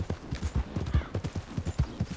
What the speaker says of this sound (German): Geben wir unserem Pferd mal die Sporen.